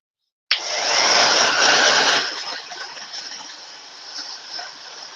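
A hair dryer switches on abruptly and blows steadily up close, drying fresh paint, its airflow loud at first and then easing to a slightly lower, continuous rush.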